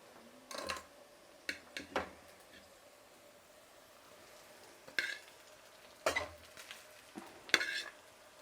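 Cooled rice is stir-fried with fried vegetables in a pan: scattered scraping stirs and clinking spatula strokes come in short bursts over a quiet background sizzle.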